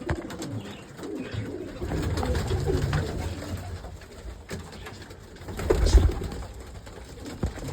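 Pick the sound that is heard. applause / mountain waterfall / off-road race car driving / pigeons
pigeons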